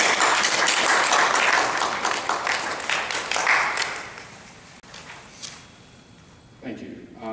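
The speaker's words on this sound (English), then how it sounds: "Give him a round of applause." Audience applause at a Tuskegee Boy Scout Court of Honor ceremony, dense clapping filling a hall for about four seconds before thinning out and fading, with a brief voice near the end.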